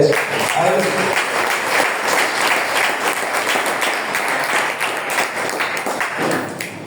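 A church congregation claps during a Spanish-language sermon, a loud, sustained mass of hand claps with some thumps, and voices are heard under it.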